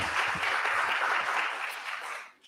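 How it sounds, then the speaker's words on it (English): Audience at an arts awards ceremony clapping steadily as a dense wash of applause, tapering off toward the end. "clap."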